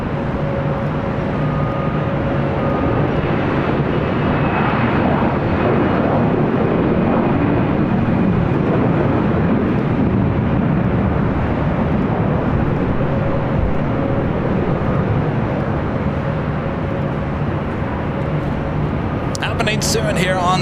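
Jet aircraft taxiing at LAX, a steady broad engine rumble and whine with a faint constant tone, continuous and fairly loud, under a low radio or voice chatter throughout.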